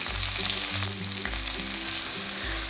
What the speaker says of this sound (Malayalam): അതിനുപ്പാട് നമുക്ക് സവാള ഇട്ട് കൊടുക്കാം.